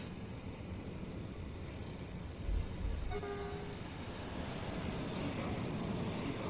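Freight train in Train Sim World 2 rumbling past with a continuous low roar, a brief horn toot midway, steady and fairly loud throughout.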